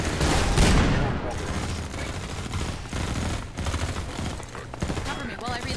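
Rapid bursts of automatic gunfire and shots in Half-Life 2 Episode One during the MMod finale, dense and continuous throughout with a heavy rumble underneath, loud and close.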